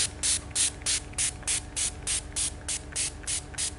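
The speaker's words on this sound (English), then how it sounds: "So we get our spray and mist, give it a really good spray." A spray bottle mists water over paper for wet embossing in quick, evenly spaced hissing squirts, about a dozen in a row, close and loud.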